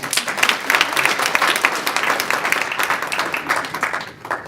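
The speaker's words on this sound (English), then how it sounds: "Everyone give Luis a round of applause." An audience bursts into sustained applause for Luis at a talk, dense and loud steady clapping filling the room before tapering off near the end.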